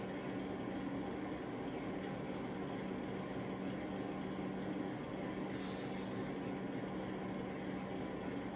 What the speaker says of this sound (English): Yep, my train is here.